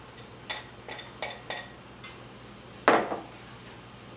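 Crumbled tofu going into a pan of onions during a cooking demo, heard as a string of light clatters and taps of utensil on pan, then one louder scraping clink, with no talking.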